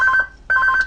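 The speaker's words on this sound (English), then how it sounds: "In true Vapourmist fashion, there's a phone call" A telephone rings with an incoming call, two short bursts of warbling electronic tone separated by a brief gap, close and clear with no voices.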